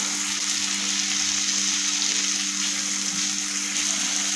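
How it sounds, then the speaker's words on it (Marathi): Masala and tomato puree frying in oil for a dhaba-style dum aloo, a steady close sizzle with a faint watery hiss and a low continuous hum running beneath, no voices. "तेल सुटेपर्यंत आपल्याला मसाला तळून घ्यायचा आहे"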